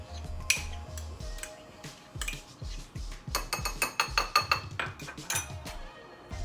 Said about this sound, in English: mix until it is a paste